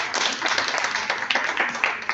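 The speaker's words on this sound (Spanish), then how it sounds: "le damos un fuerte aplauso" Brief burst of audience applause at a church gathering, a short stretch of steady clapping with a slight rise and fall.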